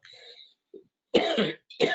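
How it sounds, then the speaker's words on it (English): A person nearby lets out a few short, sharp coughs with a softer throat-clearing rasp before them, separated by brief silences. "don't cough when you give me a lesson."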